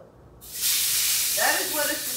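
Ribeye steak dropped into a hot sprayed skillet, a loud broadband sizzle bursting in after a quiet start and hissing steadily, with a voice talking over the cooking.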